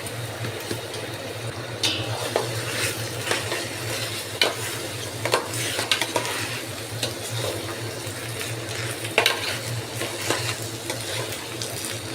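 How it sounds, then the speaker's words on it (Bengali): About a kilogram of washed, drained rice frying in a pot for biryani, a continuous close sizzle broken by repeated scraping and clattering of a spoon as the grains are stirred; no one speaks. "চালটাকে মোটামুটি ভালোভাবে আমি ভেজে নিব।"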